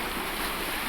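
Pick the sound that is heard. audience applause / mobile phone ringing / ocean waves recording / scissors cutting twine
ocean waves recording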